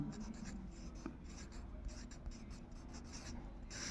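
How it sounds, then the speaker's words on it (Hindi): Pen scratching out a lake's name on a board or paper, soft quick strokes in a quiet room with faint tapping. "मैं थोड़ा नाम लिख के दे देता हूँ आपको"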